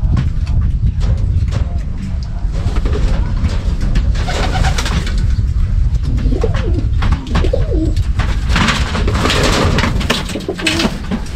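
Racing pigeons coo steadily in a loft, the soft repeated calls overlapping throughout and close by, over a constant rustle of wings and movement; someone speaks briefly among the birds.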